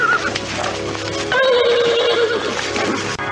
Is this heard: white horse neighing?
yes